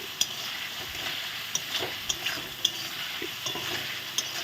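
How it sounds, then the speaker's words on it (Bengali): Spices with chili powder for a vegetarian banana flower kofta curry fry in a pan, giving a quiet, steady sizzle broken by sharp scrapes and taps of a stirring spoon nearby. "এখন ভালো করে আমি নেড়ে চেড়ে নিচ্ছি"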